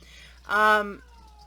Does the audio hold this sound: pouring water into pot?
no